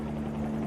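Bell 47 helicopter in a flight simulator, a steady droning rotor and engine hum with a strong low tonal whine, constant and even throughout.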